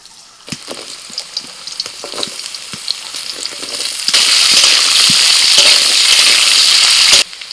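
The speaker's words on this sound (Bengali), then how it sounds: "মাছ ভাজার পর ওই তেলের মধ্যে দিয়ে দিচ্ছি আলু।" Potatoes tipped into the oil left after frying small local puti fish crackle under a light sizzle, then the frying swells into a loud, dense hiss midway and cuts off sharply near the end.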